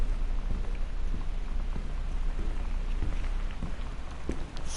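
Steady, dense rain pours on a dark house in the game Gone Home, a constant close hiss with scattered droplet ticks and no pauses.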